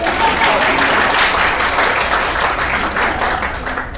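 Loud, dense applause from a theater audience during a stage show, a continuous wash of many hands clapping that fades slightly toward the end.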